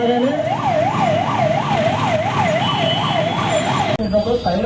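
A wailing emergency siren during a civil defence mock drill rises and falls in steady, regular sweeps, loud and close, cutting off abruptly near the end.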